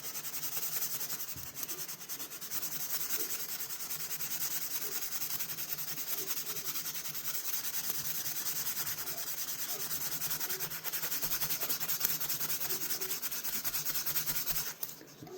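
The spine of a restored Colonial Forrest Master Scout knife blade being rocked against sandpaper, a steady, close, continuous abrasive rasping that goes on without break and stops abruptly at the end, with no talk.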